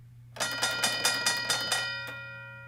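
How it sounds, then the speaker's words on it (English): A boxing ring bell is struck in a rapid run of about seven clanging hits, then one last strike. The metallic ringing sustains and fades afterward, loud and alone. "Bell, boxing ring?"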